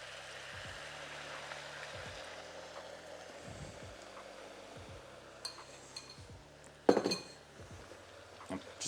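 A metal utensil scrapes and clinks around the edges of a wok of sizzling Mongolian beef sauce, giving repeated short scrapes over a steady sizzle, with one louder clatter near the end.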